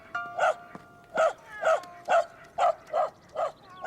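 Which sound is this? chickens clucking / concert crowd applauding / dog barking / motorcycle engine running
dog barking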